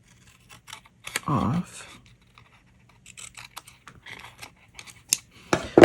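Scissors snip through card stock for a folded floral easel card in a few brief, close cuts with quiet gaps between them, and a voice speaks briefly near the end.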